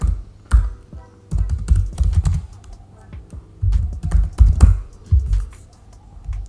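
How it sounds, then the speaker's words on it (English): Close, loud clatter of typing on a computer keyboard, coming in quick bursts of keystrokes separated by brief pauses, with no speech. "Here I'm just going to type in my name, simple"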